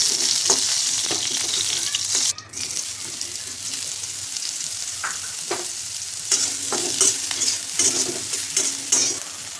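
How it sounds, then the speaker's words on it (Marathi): Cauliflower florets for veg dum biryani fry and get stirred in a pan, with a continuous sizzle broken by repeated scraping strokes and clatters of the spoon against the pan. "फ्लावर पण छान परतलेलं काढून घ्यायचं."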